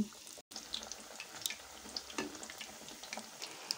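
Cauliflower pakoras coated in besan batter fry in hot oil, giving a faint, steady crackling sizzle with scattered pops throughout.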